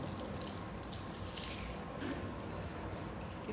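Water runs from a kitchen tap in a steady, moderately quiet gush, with small splashes as a child plays in the stream.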